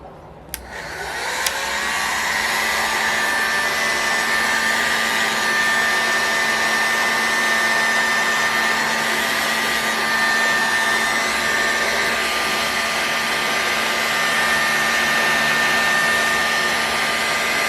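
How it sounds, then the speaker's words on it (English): A heat gun set to high runs at a steady, loud blowing roar while warming the crankcase of a Saito FA-91S model engine. The roar starts after a click and continues unbroken, with no voices. "Now my heat gun has two settings."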